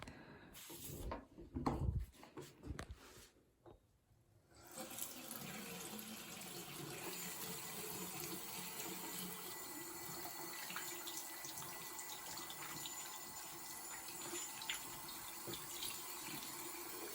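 Water runs steadily from a sink tap as someone washes their hands, a continuous close splashing hiss that starts after a few seconds of brief clattering and handling noises.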